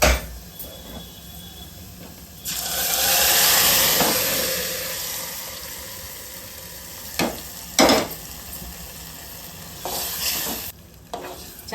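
Drumstick-leaf dal goes into a hot pan and is stirred, setting off a loud burst of sizzling and steam that settles into a softer hiss broken by spoon scrapes and clanks; no speech.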